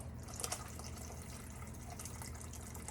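Homemade chicken broth pours steadily from a big pot into a bowl, a continuous liquid splashing and trickling with a few louder splashes early on, close and without talk.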